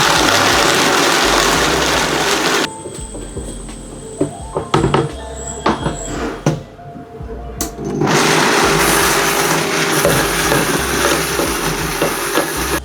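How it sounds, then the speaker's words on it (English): A restaurant blender grinding almonds, garlic, salt, sugar and grated Parmesan into a coarse pesto, a loud close motor roar that pauses midway with clunks and pulses, then whirs back up to full speed. "I'm gonna blend it now into a coarse pesto consistency"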